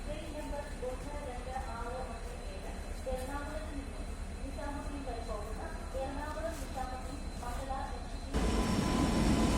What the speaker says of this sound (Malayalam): വന്നുകൊണ്ടിരിക്കുന്നത് മാംഗ്ലൂർ എഗ്മോർ ട്രെയിനാണ്.